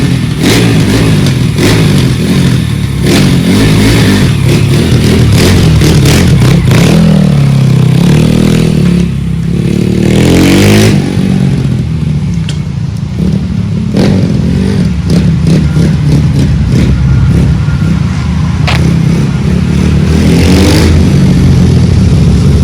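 A 2021 RXF 150 Freeride dirt bike engine revs repeatedly, loud and close, with sharp bursts of throttle rising and falling over a rough idle.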